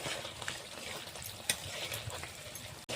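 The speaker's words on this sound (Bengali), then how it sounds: "মাংসটাকে এখন আমি ভালো করে কষিয়ে নিব আগানে।" Meat in spice paste fries quietly in a pan, a soft continuous sizzle with spoon scrapes and one sharp click partway through.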